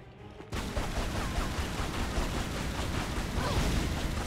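Gunfire in the video game Tomb Raider Anniversary starts suddenly after a brief quiet moment and continues as a dense, steady barrage of shots with noisy game sound underneath.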